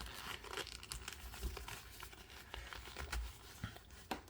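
Plastic-like action figure cape folded and crinkled by hand, close and fairly quiet, with a steady run of small crackling crumples and a few sharper tearing-like rustles.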